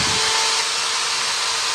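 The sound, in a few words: electric drill running through an AC SCR dimmer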